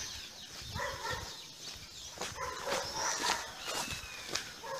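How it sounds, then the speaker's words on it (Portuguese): A dog barks a few times at a distance, short sharp yelps scattered over outdoor background noise with footsteps and birds. "Aí tinha que ter cachorro pra estrovar nós mesmo, né,"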